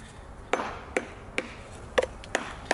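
A hammer chipping and trimming the edge of a flagstone, six sharp ringing strikes at an irregular steady pace, close and fairly loud with small stone bits crumbling between blows.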